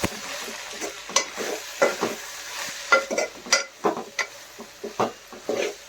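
Cabbage keema fry is stirred in a pan, a spoon scraping and clacking against the metal in repeated irregular strokes over a soft steady sizzle, close and fairly quiet with no talking.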